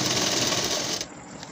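A sewing machine stitches a fall border onto a saree, running in a fast, steady buzzing whir for about a second before stopping, close and alone.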